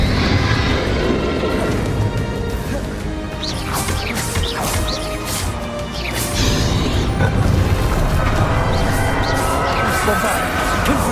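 Repeated Bombarda and Confringo spell blasts from Hogwarts Legacy on PS5 crash and boom steadily over a busy game soundscape, with shouted voices layered on top throughout.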